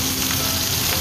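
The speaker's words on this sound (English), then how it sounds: "we're going to start sealing off our minced beef" Minced beef for lasagne sizzles and crackles steadily in a hot pot, a continuous loud frying hiss with no voices.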